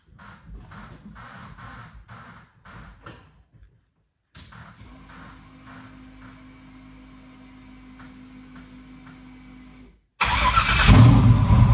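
A car engine cranks with several rhythmic starter turns, pauses, then catches and settles into a steady idle hum before a loud burst of noise at the end, at close range.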